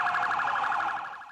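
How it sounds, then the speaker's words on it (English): Emergency sirens wail across New York City, a steady warbling tone cycling quickly at moderate distance for a short moment, with no voices. "New York is always noisy, but these days it's wailing. A city of sirens"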